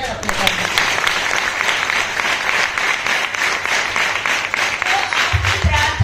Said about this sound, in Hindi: जोर से ताली बजाइए ना अपने घर में